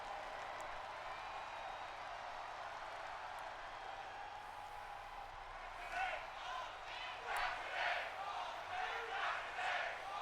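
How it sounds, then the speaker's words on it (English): Arena crowd in the WWE 2K24 wrestling video game, a steady loud roar that swells into rhythmic rising cheers in the second half, with no talk over it. "Glad to see this crowd is nicely split."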